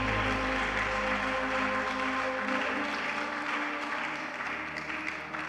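A church congregation applauding during a French-language service, a sustained dense wash of clapping that carries on steadily and tapers slightly toward the end.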